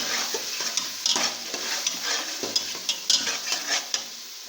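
Mutton pieces coated in red chili powder and salt are stirred in a hot pan for a potato mutton curry, with a constant close sizzle and repeated clacks and scrapes of the spoon against the pan.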